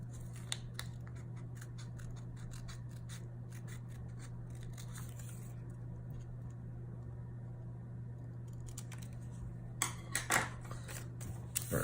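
Scissors snipping through leather to cut out a knife sheath pattern, quiet crisp cuts in irregular bursts over a low steady hum, with a louder cluster of snips near the end.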